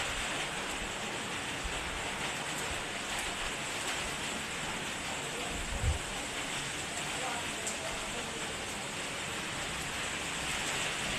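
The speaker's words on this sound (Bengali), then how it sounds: "বন্ধুরা প্রচুর পরিমাণে বৃষ্টি হইতেছে, তুফান আইব বোধহয়।" Heavy rain falls outside as a storm approaches, a steady, even hiss that continues unbroken throughout.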